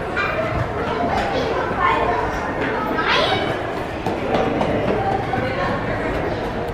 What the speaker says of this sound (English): Ooh, we got trains.